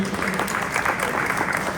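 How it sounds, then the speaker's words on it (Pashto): An audience at a London poetry and music gathering applauds, a short burst of steady clapping with a faint voice underneath. "بیا یو ځل چکچکې وکړئ"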